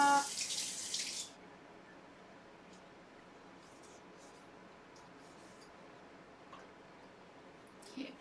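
Tap water runs steadily into a sink while food is washed under it, a brief louder splash at the start settling into a quiet continuous flow with faint clinks.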